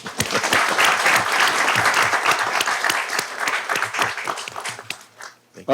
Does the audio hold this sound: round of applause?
yes